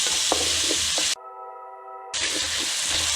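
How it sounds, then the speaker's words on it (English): Sausages browning in a pan give a steady, close sizzle with occasional stirring scrapes, broken by about a second of a pure sustained electronic tone before the frying resumes. "now I'm going to add the sausage. And we're going to cook these until they're brown."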